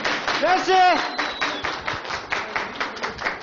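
Audience at a village show clapping in a dense, uneven burst that tapers off, with someone talking and laughing over it.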